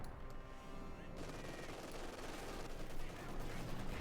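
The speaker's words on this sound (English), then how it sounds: "With a light machine gun." A light machine gun in Company of Heroes 2 rattles in quick bursts amid scattered battlefield gunfire, fairly faint and continuous, with a commentator's voice faintly underneath.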